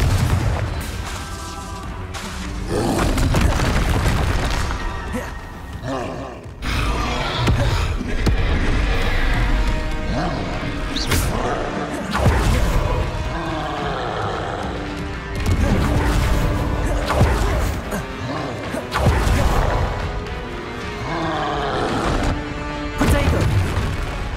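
Confringo explosion spell cast in Hogwarts Legacy, heard as repeated loud booming blasts and crashes within dense game combat effects and music, with spell incantations shouted over the top.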